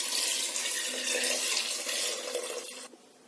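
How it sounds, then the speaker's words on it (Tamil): About four cups of water poured into a pot of Dindigul Thalappakatti-style chicken biryani, a steady close rushing splash lasting nearly three seconds before cutting off abruptly. "இந்த அளவுக்கு ஆனதுக்கு அப்புறமா இது கூட 4 கப் அளவுக்கு தண்ணி சேர்த்துடலாம்."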